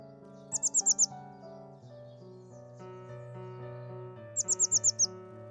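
Tits sing in a garden, two bursts of five quick, bright, high notes each, separated by a few seconds, heard over sustained music.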